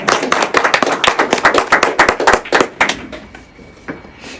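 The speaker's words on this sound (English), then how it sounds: "I'm going to give them a big round of applause" Applause from an audience at a public announcement event: a small group claps loudly and close, with distinct individual hand claps forming a dense rhythm that thins and fades over the last second or two.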